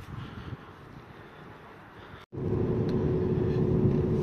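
Strong, cold wind buffets the microphone on a foggy, rainy Black Sea roadside, a loud, steady roaring rush that cuts out for a moment and then comes back heavier.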